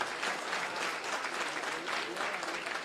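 Applause for the UDA treasurer at a luncheon at Bomas: a short, steady burst of clapping from a crowd at moderate distance, with voices mixed in.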